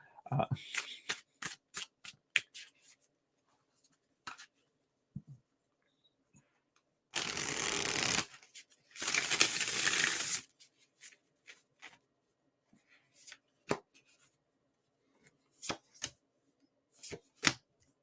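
Playing cards shuffled in two long riffling bursts, surrounded by sharp taps and snaps of cards being handled and squared up.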